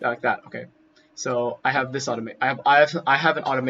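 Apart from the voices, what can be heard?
No everyday noises stand out.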